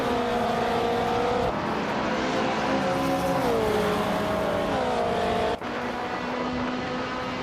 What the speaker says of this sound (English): Sylvie is driving a 1968 Porsche 909 Bergspider.